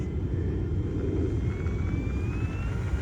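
An E-flite P-51D Mustang 1.2m RC warbird's electric motor winds up toward takeoff, a steady close rumble with a rising whine climbing in pitch as the throttle advances, no voices.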